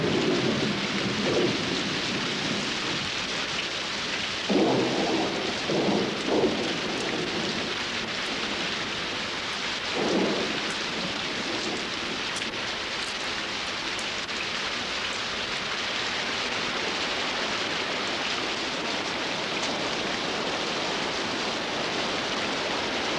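Steady heavy rain falls in a wild, wetland-like setting after months of drought, a continuous hiss with a few brief low rumbles of thunder early on, no voices.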